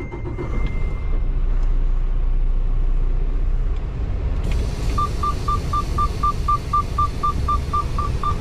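Truck cab interior while driving over to pick up a trailer, with a steady low engine and road rumble throughout, then a regular repeating beeping chime starting partway through over the drone.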